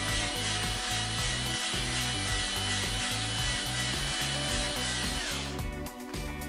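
Fake fingernails being sawed and filed with a small tool during a manicure, a steady rasping scrape running continuously at close range over a layer of background music, with a brief change near the end.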